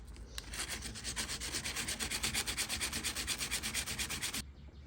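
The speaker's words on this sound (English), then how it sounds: "So I'm just going to sand some of those rough edges, kind of see how it lines up." Body filler on the trim of a vintage buffet being sanded by hand, a close, steady series of rhythmic rasping strokes that stops abruptly near the end.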